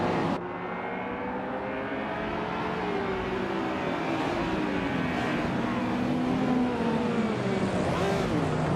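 Engines of race cars at the start of a race, led by a 1993 Porsche 911 Carrera RS R, drone and rise in pitch as the cars accelerate, a steady layered roar with revving swells.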